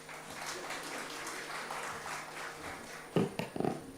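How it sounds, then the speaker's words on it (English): A conference audience in India applauds a session's speakers with a steady, fairly quiet patter of clapping, then a few closer, louder thumps and taps near the end. "I request everyone to please give them a big round of applause."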